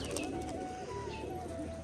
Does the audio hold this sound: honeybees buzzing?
no